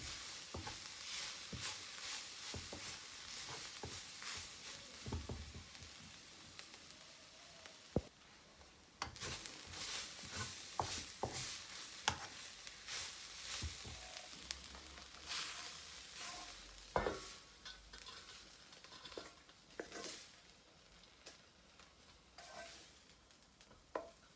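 Quiet, continuous sizzling and stirring of drumstick (moringa) leaves being stir-fried in a pan, with scattered scraping and rustling strokes throughout and no talking.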